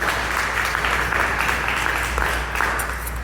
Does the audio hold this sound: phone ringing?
no